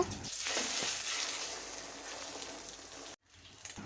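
Eggs frying in soybean oil in a wok, a soft, steady hiss of hot oil that runs continuously, broken by a brief drop near the end before resuming quietly.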